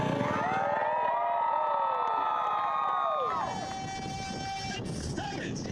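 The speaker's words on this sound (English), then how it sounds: "And the crowd is fired up" A crowd at the start of an ATV race, 2019 GNCC Round 6, cheers loudly with long, steady horn-like tones over the din before the noise eases back to a rougher, busier murmur.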